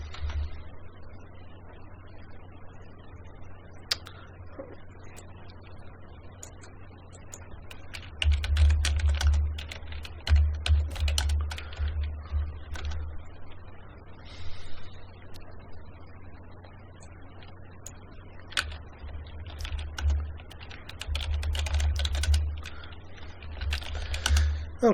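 Fingers type on a computer keyboard while logging into a router over SSH, quiet clustered bursts of key clicks with short pauses in between, in an otherwise still room.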